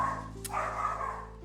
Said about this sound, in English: Dog sounds.